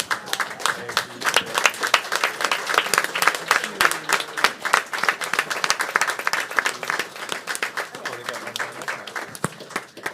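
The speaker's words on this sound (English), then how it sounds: "give these young people a round of applause" A room of people at a board meeting claps for a group of young people, a dense, steady round of applause that carries on for about ten seconds with no one speaking over it.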